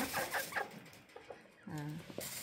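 A male pheasant-chicken gives a few short clucks and one longer throaty call, close by, with soft bird sounds around it.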